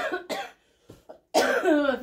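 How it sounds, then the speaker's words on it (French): A woman who is not fully recovered from illness coughs in several short, close, rough bursts, with a brief pause before a final harsher cough and throat-clearing sound. "ça me fait tousser"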